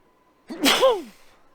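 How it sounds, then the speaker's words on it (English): A single loud sneeze, a sharp intake followed by an explosive burst, close to the microphone with no talking around it. "gonna sneeze."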